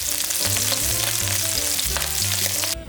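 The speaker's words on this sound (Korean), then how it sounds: "기름이 뜨거워지면 전복을 넣고 튀기듯이 볶아주세요." Abalone coated in starch stir-frying in hot oil: a loud, dense, continuous crackling sizzle throughout, with scattered pops, ending abruptly.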